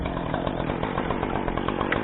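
Chainsaw cutting into a danger tree during tree felling, a steady, loud, continuous buzzing drone held at a constant pitch without pauses.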